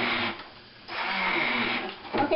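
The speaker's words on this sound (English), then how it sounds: "I'm going to start my mixer" A handheld electric blender whirs while beating egg whites for meringue cookies, running in uneven surges that drop off and rise again, with a brief rattling clatter near the end.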